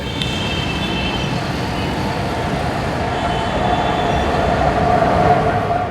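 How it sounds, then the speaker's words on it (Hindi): An elevated metro train in Lahore passes with a steady, low rumble and rolling wheel noise, heard at moderate distance and fairly faint, with traffic noise underneath and a faint high squeal near the end. "ट्रेन गुजर रही है"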